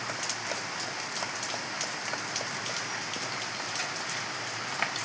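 Steady rain falling on garden plants, including a lemon plant and banana, a continuous close patter of drops on leaves with no voices.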